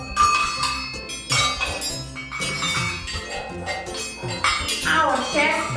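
Hanging spoons, aluminium mugs and keys clink and jingle in repeated bright bursts close by, each strike ringing briefly before the next.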